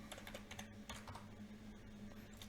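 Quiet keystrokes on a computer keyboard with a steady low hum behind them, the taps coming in loose irregular bursts and short pauses.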